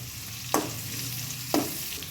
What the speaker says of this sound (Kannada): ಇವಾಗ 2 ಕಟ್ ಮಾಡ್ಕೊಂಡಿರೋ ಈರುಳ್ಳಿನ ಹಾಕ್ಕೊತಿದ್ದೀನಿ